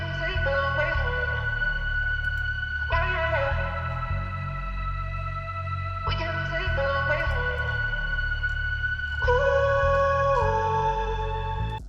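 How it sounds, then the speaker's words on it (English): A sustained strings pattern layered over a piano beat sample in the style of emotional trap melodies, with chords changing every few seconds above a repeating low bass-and-drum groove. "I also added some strings to fill up the sample a bit."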